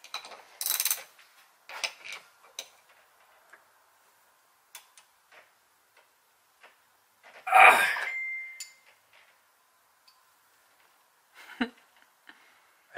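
Torque wrench clicking while a heavy boat seat lid is tightened down, giving scattered sparse ticks and small mechanical clicks with a louder burst of ratcheting near the middle, close and otherwise quiet.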